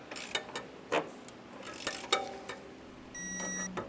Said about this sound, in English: I'm going to snug each one of these bolts down real quick